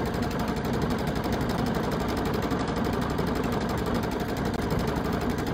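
A Solaris II embroidery machine stitching out a design, giving a steady, dense mechanical whir with a fast rapid chatter that holds constant throughout, loud and close.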